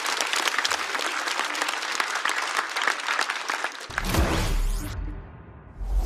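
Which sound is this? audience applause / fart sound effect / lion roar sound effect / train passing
audience applause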